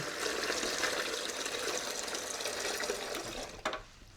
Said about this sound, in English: let's fill this up with cold water.